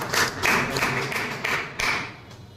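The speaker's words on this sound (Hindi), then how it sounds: "एक बार पहले आप लोग ताली बजा लीजिए" An audience at a motivational meeting breaks into short bursts of clapping, several uneven waves of hand claps close by that taper off toward the end.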